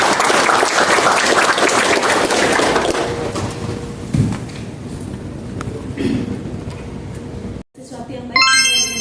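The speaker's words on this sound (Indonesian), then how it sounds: "Boleh tepuk tangan untuk kita semua." Applause rises from an audience at a landscape training event for a gardener team, a broad clapping wash that fades midway, followed by a brief cut and a few bright chime-like tones.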